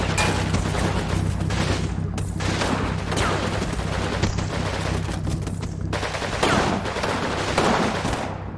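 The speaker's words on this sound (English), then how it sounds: "Oh no, it's submachine gun, MP40." An MP40 submachine gun fires in Combat Mission Normandy, a World War II strategy game set at Abbaye d'Authie with Canadians against Germans: loud rapid bursts of automatic fire repeat among other gunshots and booms, continuous and close.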